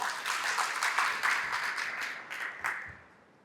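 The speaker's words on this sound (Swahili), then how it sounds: "Naomba tumpigie makofi." An audience at a meeting of chemical industry stakeholders in Tanzania gives a round of hand clapping that starts brisk and dense, then thins out and fades to quiet within a few seconds.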